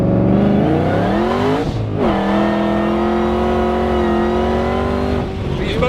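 A supercharged 900-horsepower Shelby GT500 accelerates hard, its engine roaring loud and close with pitch climbing through two gear shifts, marked by brief dips, with the tires slipping on the road.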